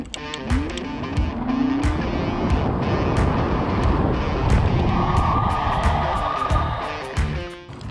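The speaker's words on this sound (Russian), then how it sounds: "сейчас будет ускорение до 60 и торможение" The unique Vostok electric scooter speeds up to 60 and then brakes, giving a steady whirring motor whine that rises in pitch over heavy wind rush, then fades as it slows. No voices are heard.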